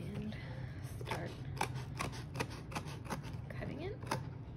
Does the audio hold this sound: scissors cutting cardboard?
yes